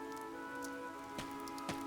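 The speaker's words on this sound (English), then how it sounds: "This rain threatens a coming storm." Light rain patters faintly and evenly in the video game Fire Emblem Three Houses, with a couple of sharper drop ticks standing out over a sustained musical drone.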